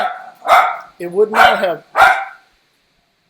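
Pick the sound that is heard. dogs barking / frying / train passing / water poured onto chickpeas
dogs barking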